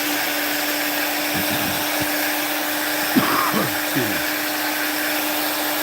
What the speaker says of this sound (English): detail burr and just kind of rolling over these edges to round them off just the slightest.